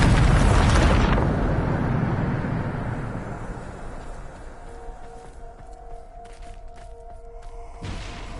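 The Bombarda spell goes off in Hogwarts Legacy with one loud, close explosive blast that rolls into a fading rumble. Quieter tones and a small burst follow near the end.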